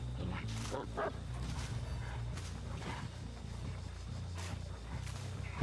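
Houndmaster's dog in the Dead by Daylight video game, barking and yipping in short repeated bursts over a low, steady game soundscape, fairly faint and in the background.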